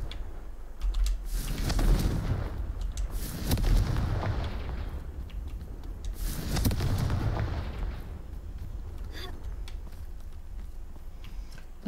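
Confringo blasting spells explode in Hogwarts Legacy, two deep booming blasts several seconds apart, each swelling and rumbling away, with faint ticking in between.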